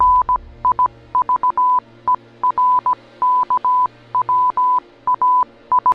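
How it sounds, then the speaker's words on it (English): Morse-code-like beeps from a cryptic posted message: a single steady electronic tone pulsing on and off in short and long bursts of uneven rhythm, clear and alone with no talking. "Audio from the final video posted sounds like Morse code"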